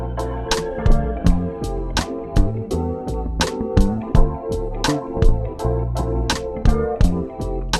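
A sampled drum beat with a flammed snare plays a steady groove of punchy kicks and crisp snare hits, each snare doubled into a quick flam, repeating evenly and loudly with a bass line underneath and no voices.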